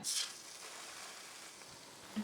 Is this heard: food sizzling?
yes